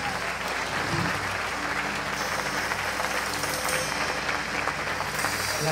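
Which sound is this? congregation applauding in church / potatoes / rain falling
congregation applauding in church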